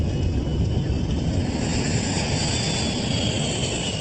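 A Boeing 757 airliner of Birgenair Flight 301 accelerates for takeoff, a loud continuous engine roar and rumble that holds steady throughout.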